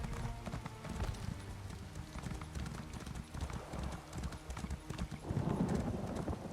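Hooves of a glowing horse mount clip-clop steadily and rhythmically in a video game, at moderate volume under a busy game soundscape.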